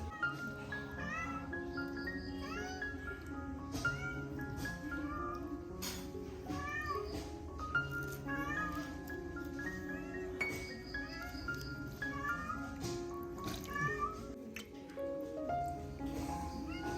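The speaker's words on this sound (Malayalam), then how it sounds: "പൂച്ച ഇവിടെ കിടന്നിട്ട് കൊയ് കൊയ് കൊയ്" A house cat meows repeatedly in a kitchen where sardine curry is being cooked, its cries rising over clinking dishes and kitchen clatter, close and fairly loud throughout.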